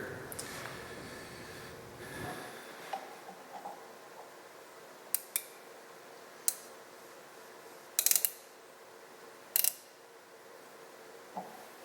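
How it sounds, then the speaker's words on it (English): A metalworking lathe with its gearbox cover off whirs with a geared mechanical rattle for about two seconds and then stops, followed by quiet scattered clicks and small metallic taps. "Now the machine's making more noise because I got the gearbox cover off"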